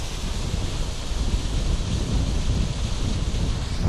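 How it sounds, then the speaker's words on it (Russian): A strong, rising wind blows across a riverbank below a dam, producing a steady broadband roar with slight buffeting gusts that fills the whole stretch, with no voices. "Да, ветер усиливается."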